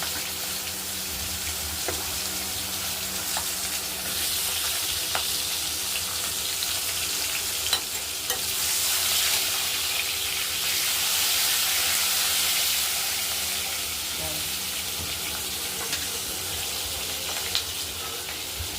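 Potato, capsicum and squash frying together in hot oil, giving a steady, fairly quiet sizzle that holds throughout with faint stirring and no talking.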